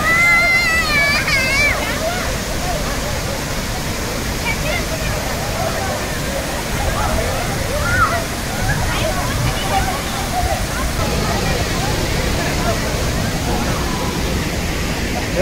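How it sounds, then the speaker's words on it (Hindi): A waterfall in Munnar roars as a constant, loud rush of water that fills the whole scene, with people talking and a crowd murmuring beneath the steady wash. "और देखिए भाई नज़ारा वो वाटरफॉल का,"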